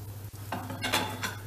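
Diced potato cubes and carrots being stirred in a hot frying pan while making a meatball hunter's kebab, with a steady sizzle and a few soft scraping strokes close by.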